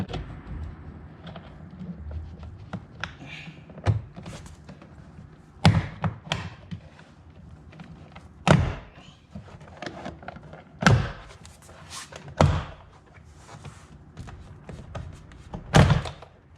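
Door trim panel pried off a Toyota Camry door by hand, with about six sharp pops and thuds from fastener clips releasing at uneven intervals over quiet background noise.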